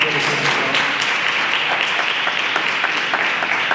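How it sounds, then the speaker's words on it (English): Steady, dense audience applause from a live crowd at a podcast event, continuous clapping with no let-up across a few seconds. "So give them a round of applause."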